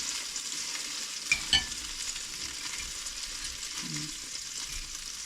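Bread slices seasoned with cinnamon and vanilla fry in a pan with a steady, soft sizzle throughout, broken by a couple of brief clinks near the start and a faint low thump later.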